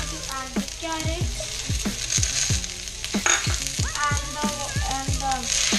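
Carrots and other vegetables stir-fried in a pan, steady close sizzling with repeated rhythmic scrapes and clinks from the spatula, fairly loud, no speech over it.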